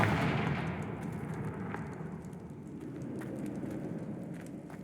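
Confringo blasting curse explosions from Hogwarts Legacy, a broad rumbling blast that swells loudly at the start and then decays into a sustained crackling roar with scattered debris ticks.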